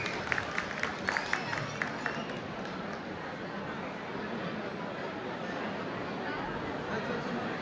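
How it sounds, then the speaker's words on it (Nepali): Audience applause and cheering for stage performers at a Lhosar celebration, with a few sharp claps at the start swelling into a sustained wash of clapping and crowd noise while voices chatter underneath. "प्लिज उहाँहरूको लागि ताली बजाइदिनु होला।"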